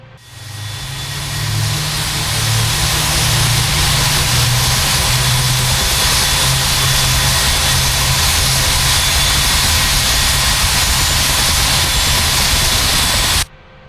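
A simulated AH-64D Apache helicopter turbine engine spooling up in a flight game, a steady loud whine and rumble building from quiet and holding at full level before cutting off abruptly at the end.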